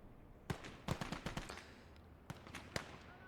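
Several grenade explosions burst in the Gates of Hell war game, sharp thuds and cracks arriving in quick irregular clusters at moderate distance, with no speech over them.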